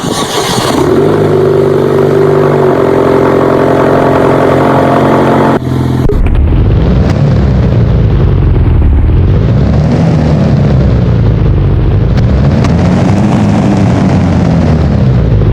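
A sports car engine in the Roblox game Driving Empire cranks and fires with a sharp roar, then idles loudly before revving up and down in repeated swells.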